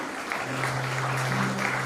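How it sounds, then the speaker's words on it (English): At a national law fest, an audience gives a brief round of applause: a short burst of steady clapping over a low hum. "Give a round of applause to ma'am for her marvelous achievement."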